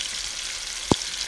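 Oxtails fry in a pan with a steady, close sizzling hiss, broken by a single brief clack midway.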